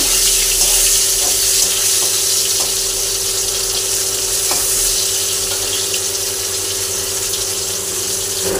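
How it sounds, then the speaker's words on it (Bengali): Pieces of paneer frying lightly in oil, a continuous loud sizzle with an even hiss throughout and faint occasional clinks, no voices. "এবার পনিরগুলো হালকা করে ভেজে নেব।"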